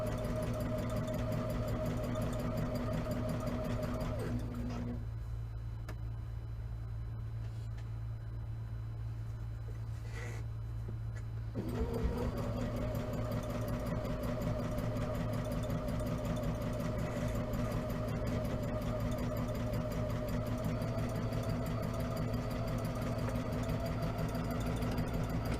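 A sewing machine stitches a quilt, its steady mechanical hum running close and continuous, breaking off for several seconds in the middle before resuming at an even pace.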